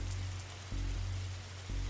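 Rain falling steadily in a video game detective scene, a soft even hiss of drops on surfaces with low ambient hum, continuous and close.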